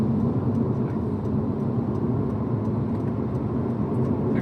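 A 2022 Honda Civic RS with a 1.5-liter turbo engine and CVT cruises along, giving a steady, close cabin drone of engine and road noise with no talking.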